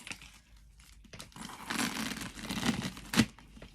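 Purse packaging, likely paper or plastic, torn open by hand, with a crinkling, ripping rustle that builds over a few seconds and ends in a sharper tear, close and moderately quiet.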